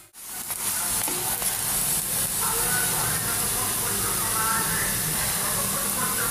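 Broth poured into a pan of snakehead fish and bottle gourd curry sets off a loud, steady sizzle and hiss that starts abruptly and holds for several seconds.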